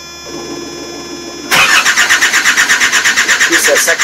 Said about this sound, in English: the unit try to start, but no diesel. If it keep doing this, then it's gonna be a problem for the starter.